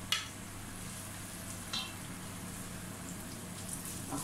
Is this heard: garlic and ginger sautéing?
yes